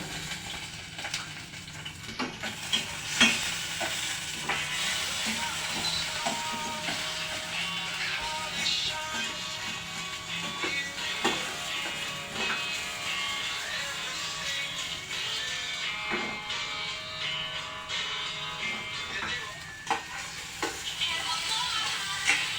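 Food sizzles and fries steadily in a smoking-hot pan, a continuous hiss with occasional stirring clicks and scrapes, moderately close, with no talk over it.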